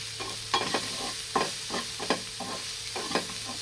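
Mustard greens saag cooking in a pan, with a soft continuous sizzle broken by repeated scraping stirs at an uneven rhythm, close and fairly quiet.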